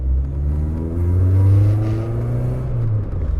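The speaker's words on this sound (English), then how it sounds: "the exhaust did get a bit of a beating from when the catalytic converter sort of exploded" A Volvo 480 with a loud, damaged exhaust, its catalytic converter having blown apart, revs up and eases back in one deep, rumbling swell, heard close up and alone.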